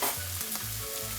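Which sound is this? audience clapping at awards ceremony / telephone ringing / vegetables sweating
vegetables sweating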